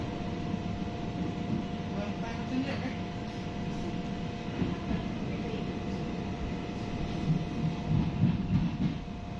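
The Medan–Kualanamu airport train pulls away from the station with a steady low rumble and rolling mechanical drone that continues evenly throughout.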